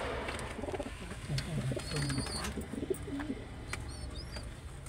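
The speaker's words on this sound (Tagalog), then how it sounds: "Yan po doon pong kalapati ko po" A pet pigeon coos softly in low, repeated phrases against a steady outdoor background, with a few faint higher bird calls and a speaking voice nearby.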